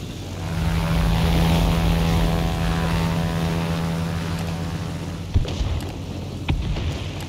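Propeller engine of an American warplane in the World of Warplanes video game, a steady droning hum throughout, with a couple of sharp clicks near the end.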